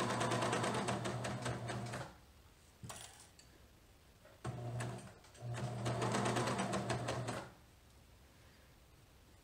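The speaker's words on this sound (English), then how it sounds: "This is the flat method of sewing in a sleeve." A sewing machine stitches in a t-shirt sleeve using the flat method, running in two loud close bursts of rapid stitching separated by a quiet pause with a brief clack.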